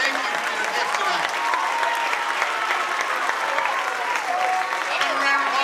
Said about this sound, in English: And one final round of applause for our high school ensemble.